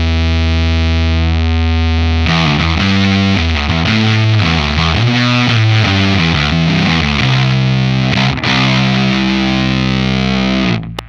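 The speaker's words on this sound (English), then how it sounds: "let's go ahead and turn the distortion down a tiny bit to get a little bit more clarity" A heavily distorted electric guitar played through a Lantern Manufacturing Sycamore distortion pedal plays loud, sustained chords and riffs, with a thick, saturated tone and dense harmonics throughout.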